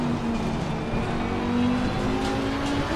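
Race car engine in Assetto Corsa Competizione during a race at Brands Hatch, a loud sustained drone with shifting pitch as the car holds speed close behind other cars, no talking.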